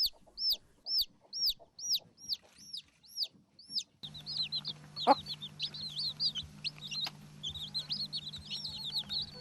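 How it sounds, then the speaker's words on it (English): A backyard mother hen gives soft, repeated clucks among her brood of chicks. The chicks' high, sharp cheeps come in quick, steady bursts close by. "The mother hen keeps guard of her chicks at all times with a protective instinct."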